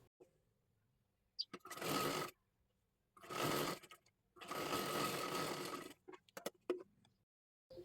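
Sewing machine stitching blouse fabric in close, steady motorized runs: three bursts of rapid rattling stitching of varying length separated by pauses with small clicks and handling noises.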